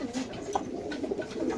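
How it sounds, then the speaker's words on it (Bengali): Pigeons cooing inside a cage, a caged male and female pair, with low repeated coos and soft bird calls close by against a steady background murmur. "এক জোড়া গররা কবুতর, নরের পায়ে একটা ট্যাগ দেওয়া আছে, মাদির পায়ে একটা চুরি দেওয়া আছে।"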